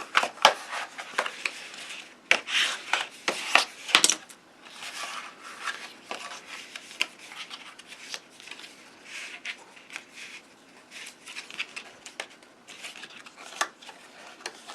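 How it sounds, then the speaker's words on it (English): Bone folder rubbing and burnishing score lines on a paper box, with soft, close scraping strokes and light paper rustles in irregular bursts, followed by quieter scattered handling. "now let's bring in our bone folder and burnish all these score lines"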